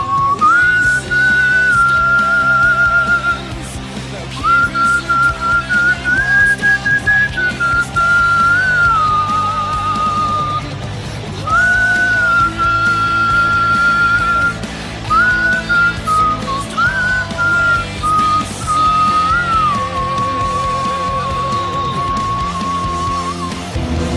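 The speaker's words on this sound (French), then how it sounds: "Sortez dans la rue et sifflez votre joie de vivre" Melodic whistling carries a wandering tune in long phrases with brief pauses, loud and close over a steady musical backing.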